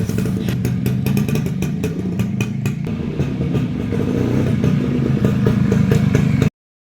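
A two-stroke motorcycle with a freshly adjusted air screw is ridden past, its engine note steady and fairly loud with rattly clatter throughout, then cutting off abruptly near the end.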